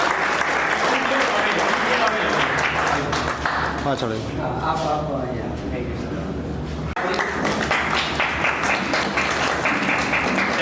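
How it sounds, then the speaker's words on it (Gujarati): Loud, continuous audience applause fills the hall at a photography exhibition event, mixed with a loud voice and a brief musical or tonal passage midway before the clapping surges again. "જોરદાર તાળીઓના નાદ"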